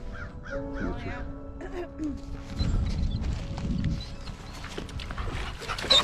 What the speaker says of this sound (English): See that damn couple hawks up there?